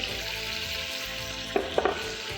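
Chicken sautés in ghee with korma masala for badami qorma, a continuous close sizzle with a couple of sharp spoon knocks against the pot near the end, no talking.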